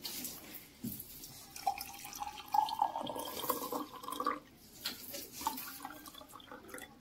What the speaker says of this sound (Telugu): ఫస్ట్ అయితే వాటర్ వేస్తున్నా చూడండి.